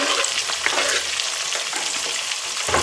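Tomatoes fry in a pan for tomato fried rice, giving a steady close crackling sizzle with light stirring noises throughout, with no one talking.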